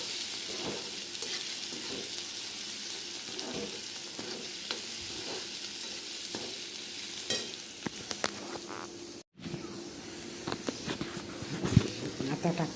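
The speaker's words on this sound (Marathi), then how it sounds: "तेलात लसूण, कांदा, मिरची" Garlic, onion and chilli fry in hot oil for a Marathi potato bhaji, a steady close sizzle with scraping stirs throughout and a brief dropout partway.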